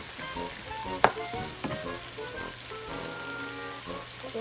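White squash (upo) stir-fries in a pan, with a quiet, steady sizzle broken by a few sharp spatula clicks against the pan.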